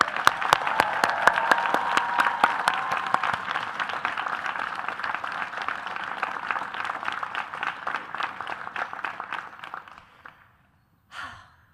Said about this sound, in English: let's show how we feel with a round of applause for the parents and caregivers, families, and loved ones of our graduating class.